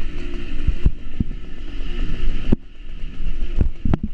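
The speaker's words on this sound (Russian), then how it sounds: "Пускай гудит, ничего, ты ж тормозишь двигателем." A vehicle engine drones steadily while engine braking downhill, a continuous low hum inside the cabin with a few sharp knocks and bumps punctuating it.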